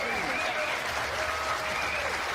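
Crowd at a political rally applauding and cheering in a steady, dense wash of clapping, with a voice faintly audible beneath it.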